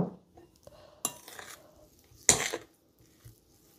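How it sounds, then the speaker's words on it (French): Mashed potatoes are stirred in a bowl with salt, pepper and egg yolks for duchess potatoes: soft scraping and a couple of sharp clinks of a utensil against the bowl, fairly quiet and sparse. "J'ajoute maintenant du sel, du poivre, mes jaunes d'œufs et on va mélanger le tout."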